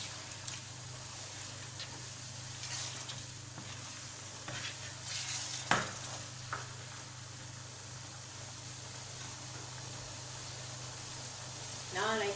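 A spoon stirs tomato sauce for lasagne in a pot, soft scraping and light clatter over a steady background hiss of cooking, with a few sharper knocks against the pot.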